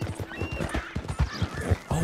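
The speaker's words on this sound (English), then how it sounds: "It's a horse. A wild horse." Hooves of a wild horse clip-clop in a quick rhythm in Red Dead Redemption 2, with a whinny rising through the steady stepping, close and clear.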